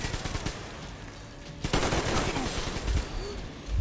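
Rapid automatic gunfire from a Metro Exodus firefight, bursts of shots rattling on continuously and growing louder and denser partway through, with no voices over the shooting.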